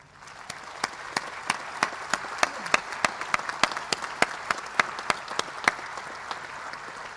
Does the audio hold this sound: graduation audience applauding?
yes